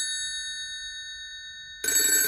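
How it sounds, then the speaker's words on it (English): A telephone rings in a Japanese horror video game, a steady electronic ringing tone that cuts off abruptly into a sudden burst of louder noise, with no talk. "Let's go to answer the phone."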